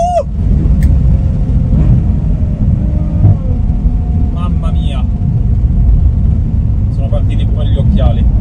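Ferrari 812 Superfast sports car engine roaring loudly and steadily as it accelerates, a dense continuous drone with people talking over it inside the cabin.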